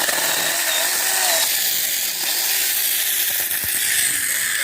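Newly bought small, lightweight power saw cutting, a continuous high buzzing whine close by that holds steady for several seconds with slight shifts in pitch as it bites.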